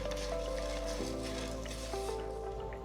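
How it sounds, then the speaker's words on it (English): A teaspoon of fenugreek seeds dry-roasting in a pan gives a soft, continuous crackle beneath steady background tones for about three seconds. "in a dry pan, roast a teaspoon of fenugreek seeds until golden brown and aromatic"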